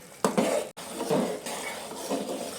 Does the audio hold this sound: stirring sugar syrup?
yes